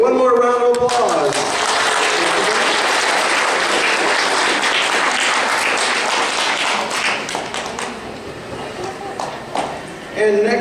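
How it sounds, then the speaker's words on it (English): A costume contest audience at a convention gives sustained, loud applause with scattered sharp claps, while a voice speaks briefly at the start and again at the end. "one more round of applause"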